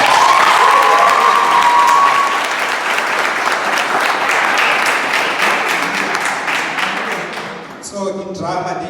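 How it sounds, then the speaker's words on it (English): A school robotics practice presentation audience gives a loud, sustained round of applause with cheering and some children's shouts, fading slightly after several seconds as voices take over at the end. "can we give them a round of applause again?"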